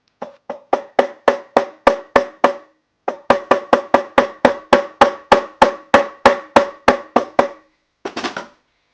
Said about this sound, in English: I'm going to carefully with my rawhide mallet just hammer it out just a little bit until these sides line up